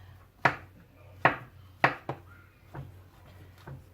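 A knife chops organic bananas into thin slices for banana pudding in a home kitchen, with six or seven sharp, separate cuts against a board, the first few louder and the later ones softer.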